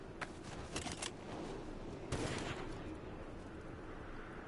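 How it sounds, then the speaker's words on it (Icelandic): A silenced sniper rifle in a video game fires several quick muffled cracks, then a stronger single shot a second later, all fairly quiet over steady game ambience. "Djöfull heyrist hátt í fyrsta skotinu alltaf með snæpun. Þó sem maður sé með silencer."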